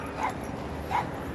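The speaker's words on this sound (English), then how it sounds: "they're barking away and talking and saying, okay, don't come over here" A dog gives two short, high yips or whimpering barks about a second apart, moderately near, over a quiet background.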